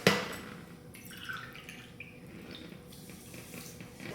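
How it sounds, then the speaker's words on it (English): Cold water poured over bulgur wheat in a kitchen, a brief splash followed by a quiet running trickle, close and alone. "I need 1 cup of cold water."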